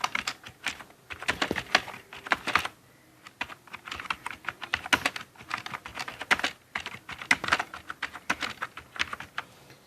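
Rapid typing on a computer keyboard while writing a formal application, with close, crisp key clicks in quick bursts separated by short pauses, no talking.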